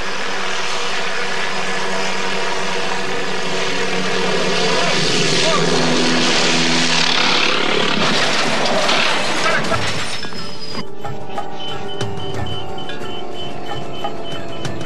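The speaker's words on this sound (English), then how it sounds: "What starts as a routine lift suddenly turns into terror as the chopper malfunctions." A helicopter malfunctions during a routine lift, its loud engine and rotor roar swelling and churning before cutting abruptly to a thinner, quieter sound, with someone narrating over it.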